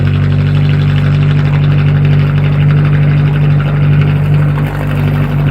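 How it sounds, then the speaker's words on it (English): A boat's inboard engine idles steadily at close range with a loud, even low-pitched drone and exhaust, running alone without voices. "Now we definitely got exhaust coming out."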